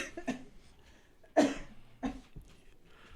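A few separate coughs, spaced apart and moderately close, with quiet breathing between them.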